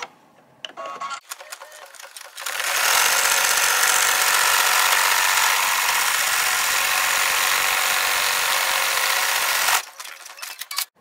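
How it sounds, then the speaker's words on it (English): An embroidery machine stitches a tack-down line over flexi foam for a pie tote, with a rapid, buzzing, loud needle chatter that runs steadily for about seven seconds between brief handling clicks. "Now we're going to stitch the foam tack down line."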